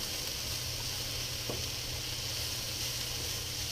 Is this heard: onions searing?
yes